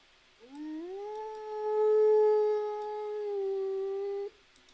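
A replacement howling sound effect for The Sims 4 plays alone: one sustained, rising then steady howl with clear harmonics, starting softly, holding for about four seconds, then cutting off abruptly.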